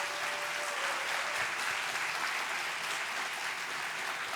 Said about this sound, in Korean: 나오실 때까지 더 큰 박수로 환영해 주시면 감사하겠습니다.